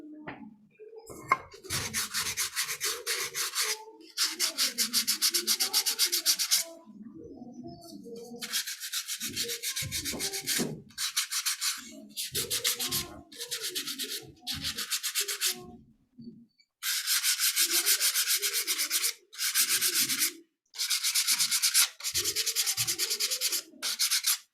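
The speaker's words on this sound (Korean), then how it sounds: "사포를 하니까" Wooden storage cabinet being sanded by hand with sandpaper, long steady bursts of scratchy rubbing strokes in repeated runs separated by short pauses, close and fairly loud with no talking.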